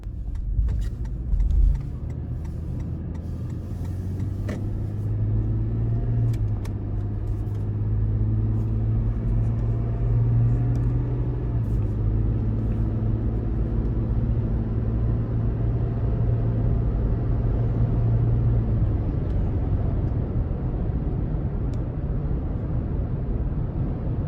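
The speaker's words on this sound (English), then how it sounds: "next is time we take this 4Runner SR5 out on the road for a quick test drive" A 2021 Toyota 4Runner SR5 with a 4-liter engine drives on the road, heard from inside as a steady low engine drone and road rumble that rises slightly as it accelerates, with a brief bump near the start.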